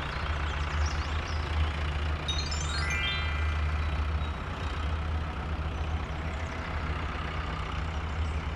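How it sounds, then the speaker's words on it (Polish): A blue delivery van's engine runs with a steady low rumble throughout, with brief high beeping tones in the middle, like a reversing alarm, and no talking. "Niebieski samochód dostawczy."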